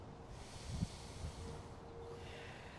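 A long, deep breath taken during a calm yoga flow, a soft airy rush of breathing with a brief nasal snort-like peak early on, fading into quiet hiss, no talking.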